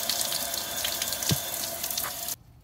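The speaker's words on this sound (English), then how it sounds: "This is immediately after letting the water run, and it was pouring out the back." Water pours steadily out of the rear of a Fisker Ocean frame rail after a hose runs over the cowl. It is a close, constant splashing rush that cuts off abruptly near the end.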